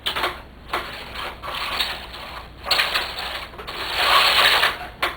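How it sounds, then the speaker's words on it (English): A home knitting machine carriage runs across two rows of pink yarn for a baby blanket, giving a mechanical rattling and clacking in repeated sweeps with brief pauses between passes, close and fairly loud. "And I will thread and I will knit 2 rows."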